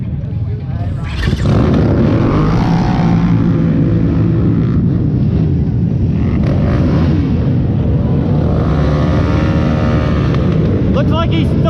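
4x4 Pro ATV quads roar off the start line at the Burr Oak GNCC in Ohio, many engines surging into a loud sustained drone after a quieter moment, with excited talk over the noise.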